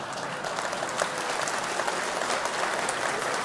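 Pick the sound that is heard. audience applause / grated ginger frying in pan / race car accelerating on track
audience applause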